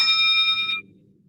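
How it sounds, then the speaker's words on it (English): One struck bell rings out with a bright, sustained metallic tone for under a second before cutting off, played alone as a calming listening exercise for children. "playing a bell sound, asking him or her to listen to the sound for as long as they can"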